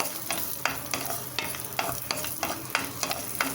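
Raisins and cashews fry in ghee for rava laddu, a soft sizzle broken by regular scraping stir strokes of a spoon against the pan, close and moderately quiet, with no voices.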